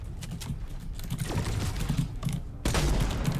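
Rapid gunfire aimed at a cube in a video game: a dense crackle of shots that runs throughout and grows louder and heavier near the end, with no talking.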